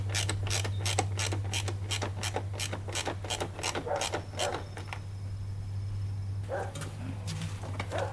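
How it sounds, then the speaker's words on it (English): A ratchet clicks in a rapid, even series as a small bolt is tightened into the plastic body panel of a 400cc ATV quad, close and clear, then slows to a few scattered clicks and faint mechanical rattles. "there is a place for a little bolt right there, so let's put that guy in."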